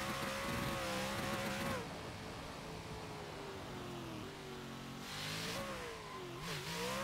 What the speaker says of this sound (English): ShadowRev S14 killing it here on Tail of the Dragon.